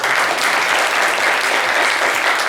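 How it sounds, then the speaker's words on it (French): Dense crowd applause rolls on without a break, many hands clapping at a loud, even level with no voices rising above it. "Applaudissez pour lui."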